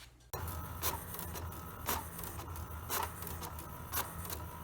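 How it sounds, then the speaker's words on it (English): An ordinary office printer runs sheets of barcode stickers, a continuous mechanical whir broken by regular feed clicks roughly once a second, close and moderately loud. "So I put these into a regular printer, and it prints all the barcodes which have to get put on each item."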